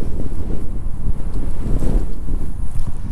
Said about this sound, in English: That wind's kicking.